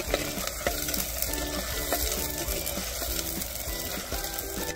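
Onion fries in hot oil with whole spices for a clay-pot village chicken curry, giving a constant sizzle and stirring with a repeating tune in the background.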